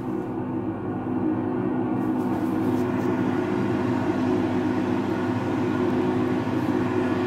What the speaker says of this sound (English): This is probably the most quietest hand dryer I've ever used.